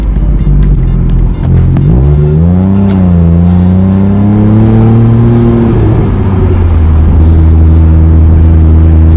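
A Smart car with a modified exhaust revs loudly close by, rising in pitch, holding, then falling back to a steady idle drone.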